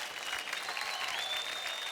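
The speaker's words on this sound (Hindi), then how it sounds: "जोरदार तालियां हो जाए" A dance show audience claps in a dense, steady burst of applause that fills the room from start to finish, with a faint tone sustained beneath it.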